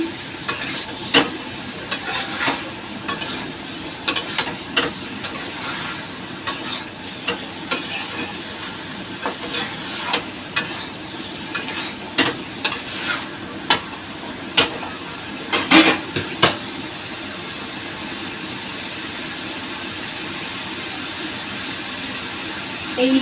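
Young jackfruit sautéing in a pan, a continuous low sizzle broken by frequent sharp scraping and clanking strokes of the spatula against the metal, close by, with no talking.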